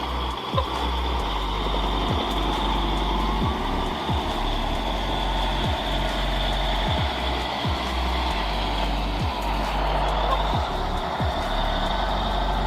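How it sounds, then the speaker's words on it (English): A Cat wheel loader unloading large fir logs runs with a loud steady diesel drone, low engine rumble throughout and repeated sharp knocks and thumps of logs shifting at regular intervals. "The cat wheel loader effortlessly unloads large fur logs."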